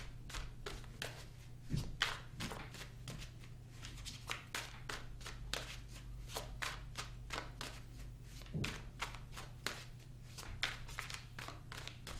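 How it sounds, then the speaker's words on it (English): Tarot cards being shuffled by hand, a rapid run of soft riffling flicks and taps repeating steadily for about twelve seconds, quiet and close, without speech. "I'm going to clarify the cards and pull some advice."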